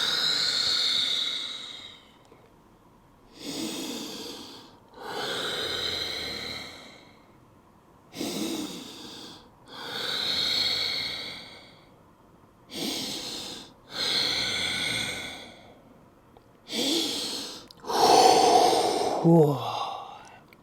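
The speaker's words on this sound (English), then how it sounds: "now you take about 5 more long, slow, deep breaths" Long, slow, deep breaths taken while holding a groin and spine mobility stretch at home, a close, loud series of about eight drawn-out airy inhales and exhales with brief pauses between them.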